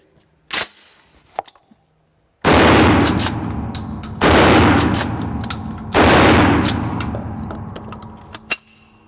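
Three loud, close shotgun blasts from a Remington 870 pump shotgun firing Federal double-aught buckshot at an outdoor range, each boom ringing out and decaying over a second or two, with faint clicks of handling between shots.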